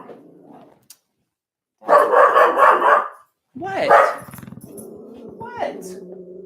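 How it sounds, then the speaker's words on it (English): A dog barks in a rapid burst of loud, close barks, followed by a second shorter volley and then a low growling grumble. "Barking dog."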